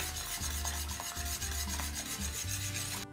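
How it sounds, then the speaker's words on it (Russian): A spoon stirring pudding mixed with juice in a pot for a raspberry cake filling, with repeated scraping and rubbing strokes in a steady, fast rhythm, close and quiet, with no voices. "мы теперь добавляем пудинг, размешанный с соком. Быстренько перемешиваем."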